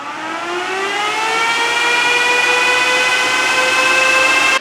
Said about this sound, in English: All right, the miner should kick on at any second now. Get ready, boys. Warning, it's about to be loud.